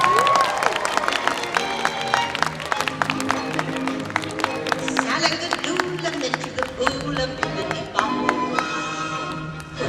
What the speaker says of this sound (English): please give a big round of applause to our next contestant, Willen Rice, otherwise known as Cinderella